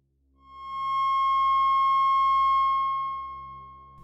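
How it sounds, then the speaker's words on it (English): Pure sine tones sound together as a sustained F sharp major chord in three-part harmony, swelling in smoothly, holding steady and clear for a few seconds, then fading out, with no voices. "these tones just happen to create the most beautiful form of music, a perfect three-part major chord in the key of F sharp."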